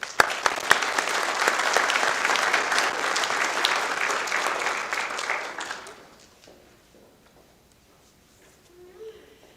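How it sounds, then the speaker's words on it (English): An audience at a pinning ceremony applauds newly introduced honorees, a full burst of clapping for about six seconds that then fades quickly into near silence. "Please give them a round of applause."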